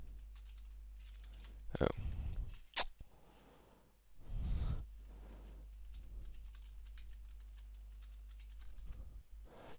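Keys clatter on a computer keyboard as a password is typed, in short irregular bursts with pauses, close and fairly quiet, with a brief spoken exclamation and a sigh in between.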